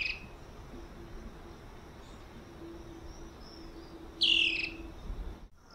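Spot-backed antshrike calling outdoors, a clear chirping call bursting out near the end over a faint steady background of insects and ambient hum, with softer distant bird notes earlier.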